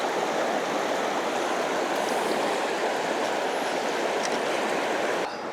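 A river flows steadily on opening day of trout fishing, a broad continuous rushing and babbling close by, alone with no voices, ending in a slight shift near the end.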